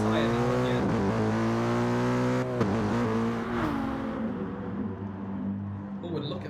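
Race cars in Gran Turismo Sport, engines revving high and sliding through gear changes as they pass, mixed with commentary voices talking throughout.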